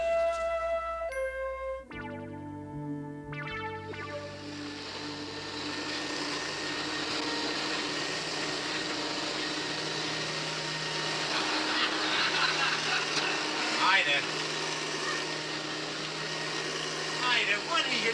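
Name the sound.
vacuum cleaner vacuuming a rug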